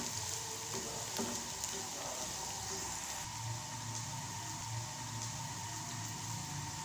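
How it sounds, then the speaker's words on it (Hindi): Chopped ginger and garlic frying in a pan for aloo kofta biryani, giving a steady, even sizzle with a broad hiss that carries on without a break and has no voices over it. "अब इसमें चॉप किया हुआ अदरक और लहसुन 1 टेबलस्पून भर के डालेंगे और इन सब को हम अच्छी तरह पकाएंगे"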